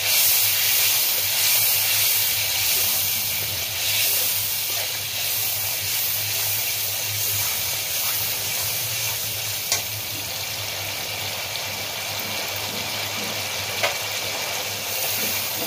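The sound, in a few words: mustard paste added to hot pan, sizzling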